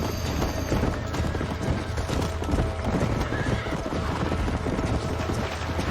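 In Red Dead Redemption, a horse's hooves clip-clop in a steady, loud, close gallop, with whinnies and neighs rising over the hoofbeats and little talk.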